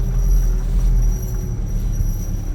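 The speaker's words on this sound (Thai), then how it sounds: "เสียงล้อหลังดังนะเนี่ย" Loud, steady low rumbling road noise with a faint whine from the rear wheel area of a 2022 Isuzu D-Max 3.0 manual 4x4 single-cab pickup carrying a three-ton load of palm fruit, continuous while driving with no voices.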